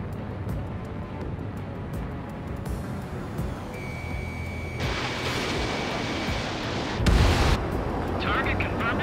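Explosions hit anti-air radar vehicles in the combat flight game Ace Combat 7, with heavy booming bursts over continuous jet and battle noise and a sustained alarm tone, the biggest blast rumbling near the end.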